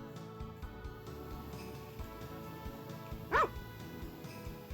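A single short dog bark sounds from the Harvest Moon farming game, set against a busy background of game music and effects.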